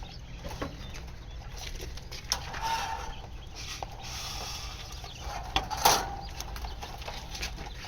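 Small quail kept in a home rooftop farm give soft clucks and short calls over a steady low background hum, rising to a brief louder flurry near the end.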